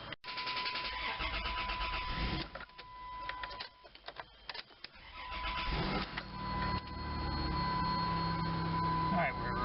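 A 1996-2002 Dodge Caravan engine starts after a fuel pump replacement, cranking with a whirring starter and uneven bursts before catching and settling into a steady idle hum, recorded up close.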